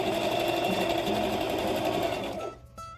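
A sewing machine stitches a churn dash quilt block in a steady, fast whirring run up close for over two seconds before stopping abruptly, followed by a faint click.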